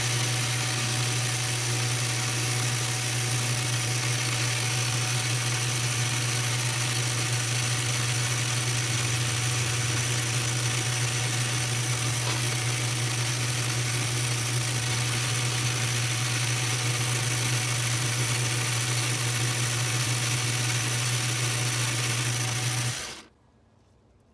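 A lathe motor hums steadily at a constant pitch while turning a brass bolt for over twenty seconds, then abruptly cuts off, leaving near silence.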